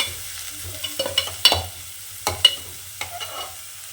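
Onions fry in a pan, a soft sizzle beneath a series of close, uneven scraping and clattering knocks from stirring.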